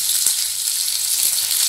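Karimeen (pearl spot fish) frying in hot oil, giving a loud, steady, close-up hiss of sizzling with a couple of faint soft knocks.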